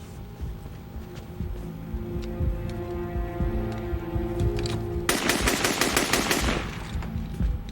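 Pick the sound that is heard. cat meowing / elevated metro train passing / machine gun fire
machine gun fire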